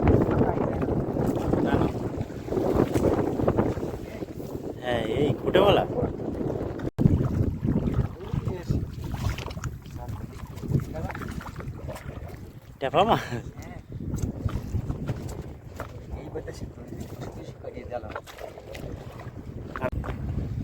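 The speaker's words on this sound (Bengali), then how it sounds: "যা যা হাওয়া দিচ্ছে যেভাবে যা হচ্ছে, বর্ষিও আসছে, নৌকাটা ঘুরে যাচ্ছে।" Strong wind roars steadily around a small fishing boat on a river during a stormy squall with rain starting, buffeting the microphone, while someone talks over it.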